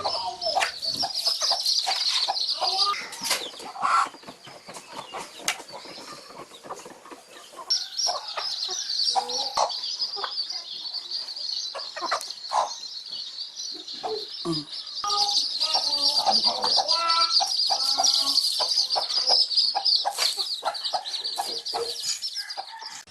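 Free-roaming chickens cluck and chatter nearby in a steady flock in Betwagan, Sadanga, with a high continuous bird chorus running over much of the scene.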